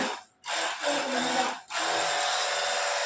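A pressure pump's water jet hisses loudly up close, cutting out briefly twice before spraying again in a steady rush.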